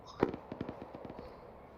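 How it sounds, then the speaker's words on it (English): Explosions in a military game, heard as a quick string of sharp pops and bangs, one strong near blast followed by about a dozen lighter crackling reports over under two seconds, fairly faint overall. "I can see the explosions from here"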